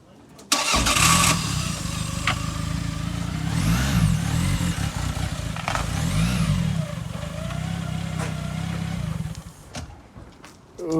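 A Toyota Celica GT-Four engine catches and runs roughly, its idle wavering and dipping as if about to stall, loud and close for most of the stretch before fading near the end.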